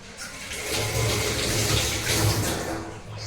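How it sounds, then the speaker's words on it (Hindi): Eggplant washed under a running kitchen tap, a steady close rush and splash of water that flows continuously throughout, with no talking. "चलिए बैगन थोड़ा धो लेती हूँ"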